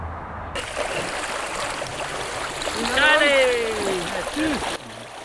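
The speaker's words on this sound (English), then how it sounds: "This is the Usutu River on the South African border with the country Mozambique." The Usutu River on the South African border with Mozambique flows with a steady broadband rush and trickle, loud and continuous, with brief bird-like whistles and a voice passing over the water partway through.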